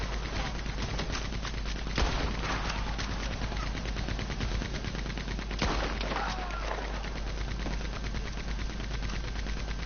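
A mounted 360-degree turret machine gun fires in Red Dead Redemption 2 Online, a loud, steady stream of rapid shots that keeps going for the whole stretch, with a few sharper bursts standing out.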